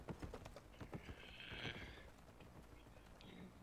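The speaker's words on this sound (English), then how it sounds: "my horse is a lot faster than them" A horse gallops in the online fantasy game Albion Online, its rapid hoof clip-clops rhythmic at first, with a brief whinny-like swell midway, quiet and close, with faint talk underneath.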